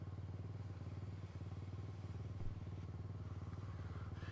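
A dirt bike engine in the MX Bikes motocross video game drones steadily with a rapid pulsing rhythm, faint and continuous, with a single soft thump partway through.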